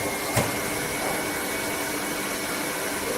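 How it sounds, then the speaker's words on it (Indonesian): A surface grinder's grinding wheel switched on and spinning, giving a loud, steady broadband whir with a constant motor hum and a brief click at the start, close by and without talking. "Maka nyalakan switch putaran batu gerinda."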